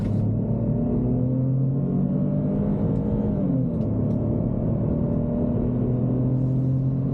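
A 2023 Ford Bronco in sport mode accelerates hard, its engine a loud steady rumble with a pitch that climbs, dips briefly, then climbs again from inside the cabin, with no talking.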